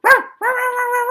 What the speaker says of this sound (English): went on yapping, a bit self-consciously, thought Ralph